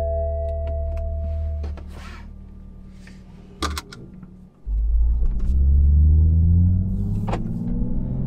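A new Toyota Supra in sport mode rumbles at a low idle-like drone, then surges louder as the engine and exhaust build revs with a rising, throaty pitch under acceleration on the road, with a few faint clicks.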